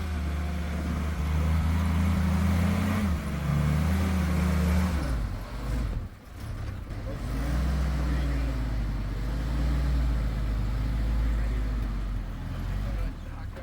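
A vintage Jeep engine crawls slowly over an obstacle on the West Rim Trail at Sand Mountain, a low, steady rumble with a brief dip partway, heard close with voices talking over it.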